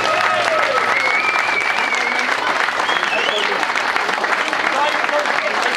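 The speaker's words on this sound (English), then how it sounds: "Round of applause, come on." Audience applause at a community gathering for a charity climb of Kilimanjaro, a dense, even round of clapping from a room of people with scattered voices and whistles over it.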